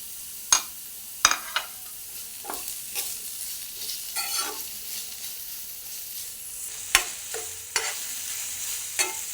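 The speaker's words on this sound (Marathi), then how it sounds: "कांदा हलकासा लाल परतून घेऊया आणि कांदा लवकर शिजण्यासाठी चिमूटभर मीठ घालूया" Chopped onion with a pinch of salt sautéing in a pan for a shatavari leaf dish, under a soft steady sizzle. Sharp, close scrapes of a spoon stirring it come at irregular intervals, with no talking.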